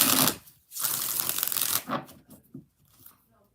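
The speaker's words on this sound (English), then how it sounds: "5 shuffles." Tarot cards being shuffled by hand, a near, crisp riffling burst followed by a longer flutter and a few softer taps as the deck settles.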